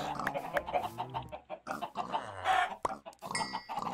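Chickens in the Minecraft video game cluck in short, repeated bursts of game audio, busy and moderately loud, with no talk over them.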